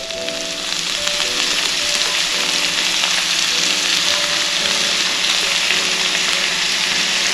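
Green onions sautéing with ginger-chilli paste in a pan give a steady, loud, close sizzle that holds for the whole stretch, with faint stirring scrapes beneath and no talking.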